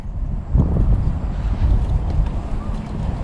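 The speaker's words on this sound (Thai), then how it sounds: "ลมดีวันนี้" Strong, gusty wind buffets the microphone outdoors while a heart-shaped kite is flown, a continuous low roar with surging gusts.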